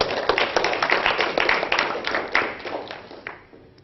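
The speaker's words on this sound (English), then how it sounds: "so we can give him a round of applause." An audience at an Oxford physics society talk claps to welcome a speaker, a lively patter of individual hand claps that gradually thins and fades toward the end, with no talking.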